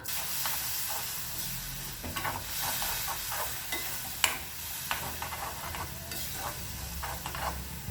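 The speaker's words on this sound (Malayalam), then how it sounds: "ഇനി ഇതിലേക്ക് ഒരു 3/4 കപ്പ് വെള്ളം ഒഴിച്ചു കൊടുക്കാം." Hot water hits a frying spice paste in a pan for Kerala gooseberry pickle, giving a continuous soft hiss and sizzle with faint stirring clicks, fairly quiet and with no talk.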